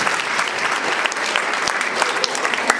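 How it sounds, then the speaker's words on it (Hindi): Loud, dense applause from an audience at a women's gathering in a hall, a steady wash of clapping filling the whole stretch with scattered sharper claps standing out. "वाह जोरदार तालियां।"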